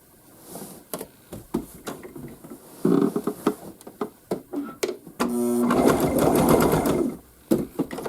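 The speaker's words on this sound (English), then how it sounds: "I'm just going to stitch as close to that edge as I can" A domestic sewing machine stitches quilt binding in short bursts of rapid, close mechanical whirring, mixed with fabric handling and small knocks. One longer continuous run of stitching comes near the end.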